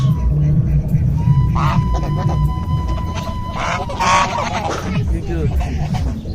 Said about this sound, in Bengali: দেখতে পাচ্ছেন রাজা হাঁস